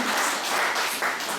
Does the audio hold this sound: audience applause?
yes